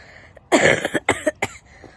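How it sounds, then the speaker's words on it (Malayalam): Several short, harsh coughs in quick succession from a person with a fever, close and loud, followed by quiet. "അതുകൊണ്ടാണ് ഞാൻ ഇങ്ങനെ ചുമച്ച് എൻ്റെ സൗണ്ടൊക്കെ മാറിയിരിക്കുന്നത്"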